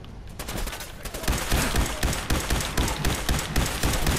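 Rapid bursts of gunfire from a weapon in Fallout 4 rattle close and loud, with repeated volleys pulsing steadily for several seconds.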